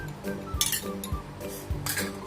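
A whisk or spoon beats egg together with butter and sugar in a bowl for a chocolate tart, striking the bowl in light, regular clinks roughly twice a second, close and fairly soft.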